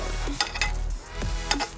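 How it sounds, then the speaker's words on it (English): Salted and peppered plantain slices being stirred in a bowl, with soft scraping and sticky squelching movements repeating a few times, no voices. "I'm trying to mix it all together so that the salt and pepper can get into"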